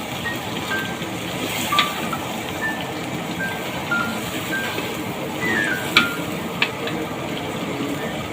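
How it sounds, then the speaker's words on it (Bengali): Small round local potatoes fry in hot oil for a Kashmiri curry, giving a steady, even sizzle throughout with a few faint clinks and scrapes scattered over it. "এখন আলু ভাজা হচ্ছে, এই যে গোল গোল ছোট আলু, দেশি আলু, এটা ভাজা হচ্ছে"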